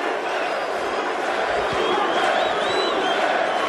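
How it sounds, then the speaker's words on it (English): A big boxing crowd at a super middleweight IBF title fight in Montreal roars and yells a fighter's name, a dense, steady wall of chanting and shouting with whoops rising above it. "Crowd yelling Bute."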